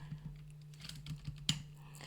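Keystrokes on a computer keyboard while a formula is entered into a spreadsheet cell: a handful of faint, scattered clicks at an uneven pace over a steady low hum.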